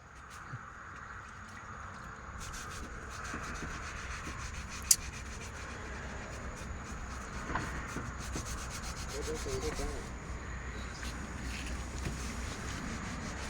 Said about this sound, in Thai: อันนี้คือเราล้างก่อน ให้ขัดให้ถูเอาสไลด์มามาล้างอีกรอบหน้าก่อน